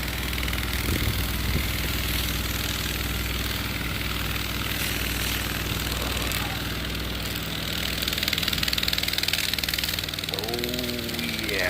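A wood lathe turns a privet (Ligustrum) crotch piece with a steady motorized whir and hum, continuous and close, with faint scraping over the drone.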